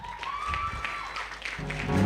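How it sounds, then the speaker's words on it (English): An audience at an African international e-waste conference claps a moderate round of applause, the clapping scattered and fairly soft, with a sustained tone running through the first part and a louder rumble toward the end. "Another beautiful round of applause."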